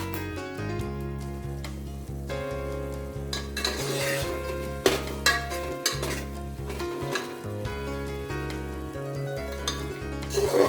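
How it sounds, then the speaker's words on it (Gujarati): Urad flour roasts in hot ghee in a pan for adadiya pak as a spatula stirs and scrapes, with soft sizzling and repeated metallic clinks under continuous background music. "ગરમ ઘીમાં અડદનો ધાબો આપેલો લોટ અંદર નાખી અને શેકવાનો"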